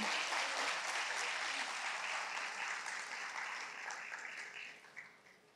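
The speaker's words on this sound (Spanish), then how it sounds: "Aplauso para ella" Steady applause from an audience at a nursing academic event at Universidad Eugenio María de Hostos in Santo Domingo, honoring a teacher; dense, even clapping at a moderate distance that slowly tapers off.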